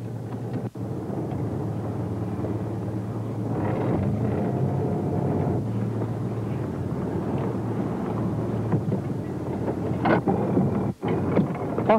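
A crayfish fishing boat steams off at sea under automatic pilot, giving a continuous low engine drone with wind and water noise, steady and fairly close, with an occasional brief knock.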